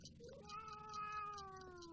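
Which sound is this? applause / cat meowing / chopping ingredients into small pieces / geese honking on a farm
cat meowing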